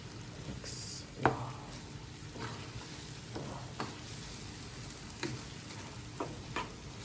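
Spaghetti sauce sizzles and frys steadily in a pan while a utensil stirs through it, with soft scraping strokes and a few sharper clacks against the pan over a constant crackling bed.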